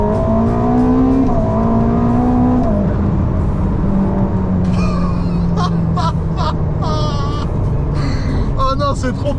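A Ferrari SF90 accelerating hard, a loud close engine note sweeping up and then easing down, with excited voices talking and exclaiming over it in the second half.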